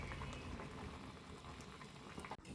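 Sambar with cucumber, peas and greens bubbles at a steady boil in a pot, a dense continuous burble of liquid heard close up with no talk.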